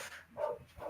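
A dog gives a couple of short barks indoors, the first one louder, the second one shorter, with a quieter stretch between them.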